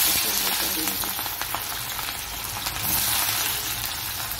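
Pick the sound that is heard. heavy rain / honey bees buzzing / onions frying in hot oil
onions frying in hot oil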